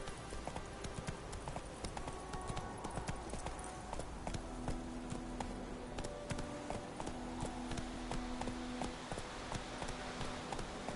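Roach, a video game horse, trots with an even, continuous clip-clop of hooves, moderately close and steady throughout over faint background music.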